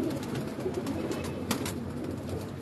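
Pigeons coo steadily at close range in a loft belonging to a pigeon keeper in Faisalabad, soft repeated calls layered over a continuous murmur of birds, with no voices.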